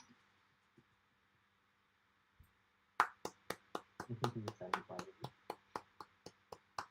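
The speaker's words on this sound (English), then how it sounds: "You should give everyone a round of applause." After a near-silent lead-in, a few people at a mentorship showcase reception break into a round of applause, separate, distinct handclaps in a loose rhythm, fairly faint and close.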